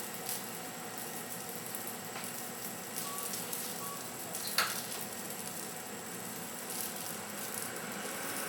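Cheese blintzes frying in a pan over lowered heat, a constant soft sizzle with occasional small pops and one brief clatter midway, no talking.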